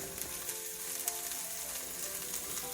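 Onions browning in a pan for stir-fried cabbage with fennel seed, now joined by a big pile of cabbage; a dense, steady sizzle and crackle fills the whole stretch, fairly close, with light stirring and no talking.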